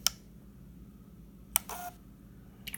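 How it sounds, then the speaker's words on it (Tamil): A Bluetooth thermal mini printer with a built-in battery powers on, giving a sharp click, then a short whirring burst of its mechanism, and a couple of faint ticks at the end, over a quiet low hum. "இப்போ நான் பிரிண்டரை ஆன் பண்ணுறேன்."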